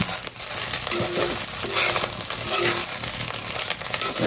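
Leftover khichuri reheating in a pan, a steady close sizzle and crackle with occasional scraping of a spoon stirring, no voices.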